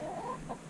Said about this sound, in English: There's the chickens, there's the Silver Lace Wyandotte.